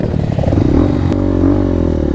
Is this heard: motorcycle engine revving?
yes